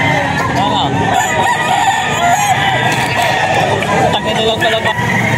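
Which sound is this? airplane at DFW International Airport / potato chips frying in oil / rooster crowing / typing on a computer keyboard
rooster crowing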